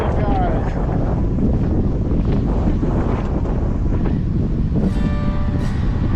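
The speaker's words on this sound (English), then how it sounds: "It became way too windy and dangerous to stay out on the lake fishing." Strong, steady wind buffets the microphone out on a lake during a walleye fishing tournament, a loud constant roar with water and boat noise mixed in.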